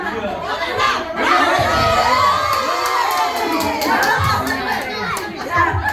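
A group at a Thanksgiving party at the House of Us Restaurant shouts together during a party game, a loud, sustained burst of overlapping voices and cheering, with children's shouts and chatter mixed in throughout.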